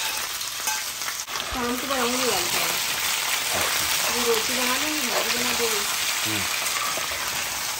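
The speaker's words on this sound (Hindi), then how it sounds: "तो अरबी को पहले करेंगे फ्राई" Taro root (arvi) frying in a pan gives a steady, close sizzle that runs the whole clip, with voices talking over it.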